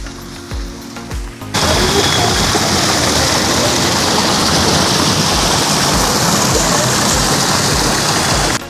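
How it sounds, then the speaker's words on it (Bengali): Water pours from a fountain at Rangpur Zoo. A dense, loud rushing splash starts abruptly and then holds steady and close. "তার ভিতরে আছে সুন্দর ঝর্ণা"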